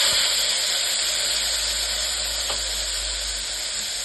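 Onion and tomato frying in hot oil with mustard seeds give a steady, close sizzle that crackles evenly throughout, with one faint clink partway through and no voices.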